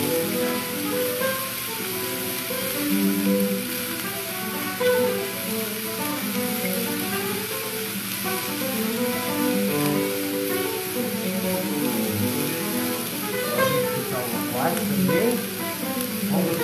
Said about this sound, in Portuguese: E agora vamos botar o repolho. Dá só uma fritada nisso